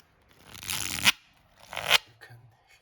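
A deck of Tarocchi Milanesi 1845 tarot cards printed on casino paper is handled close up. Two quick, crisp bursts of rustling and snapping paper are separated by brief quiet.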